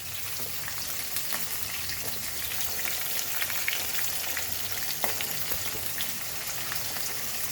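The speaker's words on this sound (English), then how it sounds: "I will add the tomatoes also and let it get fried and soft." Onions and tomatoes fry steadily in hot oil for a Goan chicken curry, giving a dense, continuous crackling sizzle with scattered sharper pops close by, and no talking.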